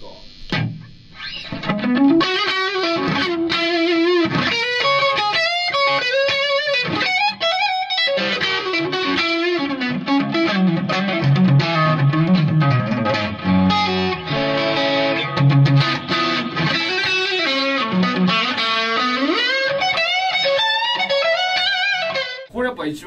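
A heavily distorted electric guitar plays chords and melodic runs with a washy reverb tail, loud and continuous.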